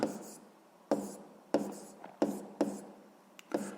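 Pen strokes on paper while a maths exercise is written out, about six separate scratchy bursts of handwriting spaced roughly half a second to a second apart, quiet and close, with no talk over them.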